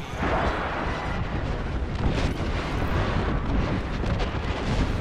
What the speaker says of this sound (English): They are bombing our fucking ass, dude.